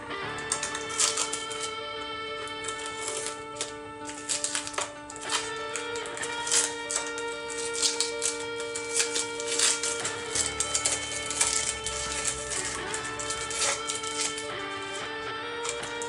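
Masking tape pulled and pressed onto an Imperial Knight Stormsword model before airbrushed camouflage, making a steady stream of faint, quick crackling and rustling, close and quiet, with no talking.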